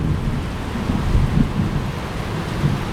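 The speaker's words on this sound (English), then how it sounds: "Thunder, now it's coming down." Low thunder rumbles under a dense, loud wash of rain during a rainstorm, a continuous roar with slight swells and no voices.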